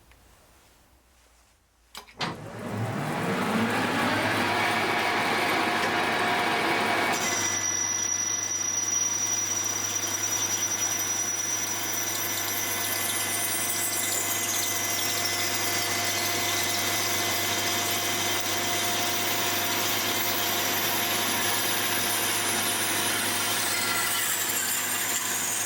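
A metal lathe spinning at 630 RPM takes a parting cut on a 75 mm diameter workpiece at 0.15 mm feed, a steady loud machining drone with a high whine and a shift in tone partway through.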